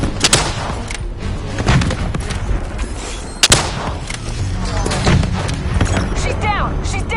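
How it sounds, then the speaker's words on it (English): Javelin missile blasts and heavy combat in Call of Duty Black Ops 3 boom loudly over a dense battle din, with a sharp impact midway while voices talk throughout. "Javelin missiles incoming!"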